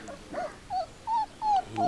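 A wolf-type breed dog whimpers and whines in short, high, pitched cries, four or five in a row, soft and fairly close, with no talk.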